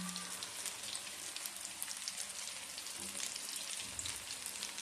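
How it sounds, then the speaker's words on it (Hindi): Chicken and potato cutlets shallow-frying in ghee on a flat griddle give a steady, soft sizzle and crackle that runs unbroken throughout, close and fairly quiet, with no voices. "आप इन्हें पैन या कढ़ाई में भी फ्राई कर सकते हैं, लेकिन मैंने इन्हें तवे पे फ्राई किया है।"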